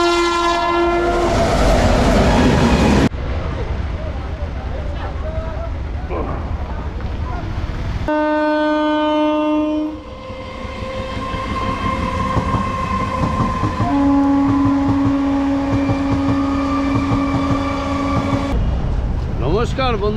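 The 13063 Balurghat Express rolls along with a loud, steady rumble and rail clatter, its long horn blasting at the start and again in sustained tones later, close and dominant throughout.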